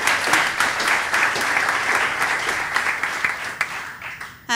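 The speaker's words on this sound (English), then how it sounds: "May I ask a spontaneous applause?" Spontaneous applause from an evening data-organization meetup audience, a continuous crowd of hands clapping with crisp individual claps showing through, steady and fairly loud, tapering briefly near the end.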